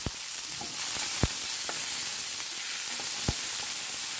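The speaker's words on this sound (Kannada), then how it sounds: "ಇದಕ್ಕೆ ಇವಾಗ ಸಣ್ಣದಾಗಿ ಹೆಚ್ಚಿರೋ ಒಂದು ಮೀಡಿಯಂ ಸೈಜ್ ಈರುಳ್ಳಿನ ಹಾಕ್ತಾಯಿದ್ದೀನಿ" Finely chopped medium-size onion frying in a pan for a Karnataka wedding-style palya, a steady close sizzle with a few sharp crackles and pops scattered throughout, no talking.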